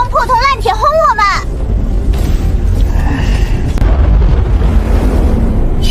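Animated-series attack explosions rumble as deep, sustained booms and blasts, opening under a brief burst of a raised character voice, then rolling on loud and low without speech.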